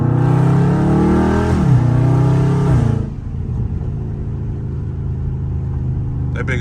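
Dodge Charger 392 V8 revs hard with rising and falling engine pitch as it slides sideways, then the engine note drops to a lower steady rumble, loud and close throughout.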